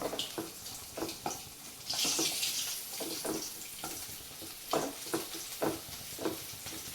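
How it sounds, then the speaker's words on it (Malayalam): Prawn roast with curry leaves gets stirred in a pan: a spoon scrapes and taps against the metal in repeated strokes over a soft steady sizzle, with one brief louder hiss partway through. "നന്നായിട്ടൊന്ന് മിക്സ് ചെയ്യാം നമ്മൾ കറിവേപ്പില ചേർത്തതിന് ശേഷം നന്നായിട്ടൊന്ന് മിക്സ് ചെയ്യാം"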